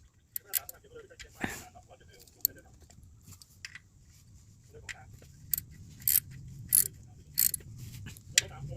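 A hand tool turns to fit a Toyota Yaris oil filter during a home oil change, giving intermittent ratcheting clicks and metallic ticks spread over several seconds, with a low background hum and voices nearby.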